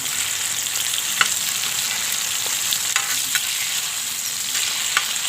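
Food fries in a pan over a village wood-fired stove with a steady, dense sizzle, broken by a few light scrapes and taps as it is turned over.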